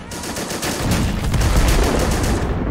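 Dense, continuous gunfire in Men of War: Assault Squad as US Marines clash with Japanese forces and tanks at a 1944 Saipan airfield: rapid overlapping shots and bursts, loud and sustained with no break.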